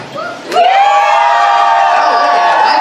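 A convention crowd at a furry dance competition cheers and whoops loudly, a sustained roar of many voices that swells abruptly and holds steady to the end.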